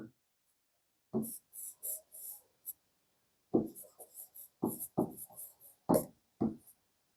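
A pen scratches out circuit coding notes on paper in short, separate strokes and scribbles, close and fairly quiet, with brief silent pauses between bursts of writing.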